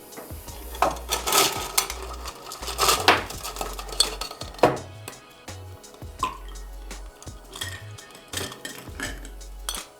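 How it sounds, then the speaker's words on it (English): Ice cubes dropped into a cocktail glass for a Golden Russian, a run of hard clinks and rattles with bursts of several cubes knocking together, close and clear with no voices. "Now we need ice."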